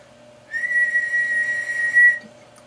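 A person whistles a single steady, sustained tone into a microphone for about a second and a half while testing an RM Italy KLV-1000 radio amplifier, with a faint background hum before and after.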